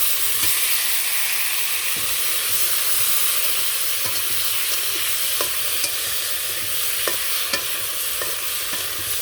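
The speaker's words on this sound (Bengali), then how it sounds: "এই তেলের মধ্যেই আমি টমেটোগুলো একটু ভেজে নেব।" Tomatoes frying in oil left over from fried fish, a steady loud sizzle and hiss with occasional stirring clicks, no talking.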